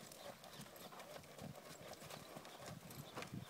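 A horse being broken to ride walks with a steady clip-clop of hooves, close and continuous for several seconds, with faint ambient noise around it.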